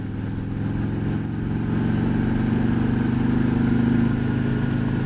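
A 2019 Harley trike with a 114 engine accelerates from about 40 in 5th gear, a deep, close engine rumble that swells and grows steadily louder with no talk.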